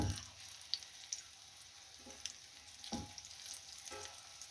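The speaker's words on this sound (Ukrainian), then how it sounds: "І так, жаряться наші котлетки." Meat cutlets frying in a pan give a soft, steady sizzle, close but fairly quiet, with a few light crackles and faint scrapes as they are turned.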